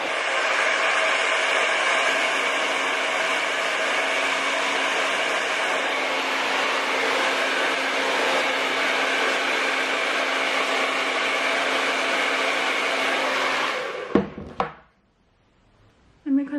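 Hair dryer blowing on a wig, a loud steady whooshing drone held close for about fourteen seconds before it cuts off abruptly, followed by a brief quiet stretch and a faint knock.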